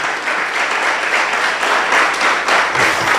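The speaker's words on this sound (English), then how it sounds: "Please clap for them." Lecture audience applauding steadily, a dense wash of many hands clapping at close range, sustained throughout without a break.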